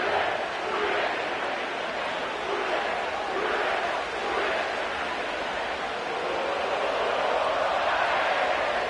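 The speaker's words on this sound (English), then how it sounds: "sellout crowd has arrived at Paycor Stadium in Cincinnati" A sellout stadium crowd roars in the Madden football video game at Paycor Stadium in Cincinnati, a steady, distant wash of cheering that swells gently throughout.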